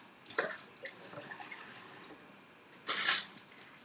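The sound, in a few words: water poured into a pan for cooking baby sweet corn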